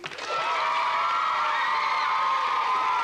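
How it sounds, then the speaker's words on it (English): Studio audience on a 1992 children's TV game show breaking into applause and cheering, a loud sustained roar of shouts and whoops from the crowd that swells quickly and stays full to the end. "I think they deserve a round of applause"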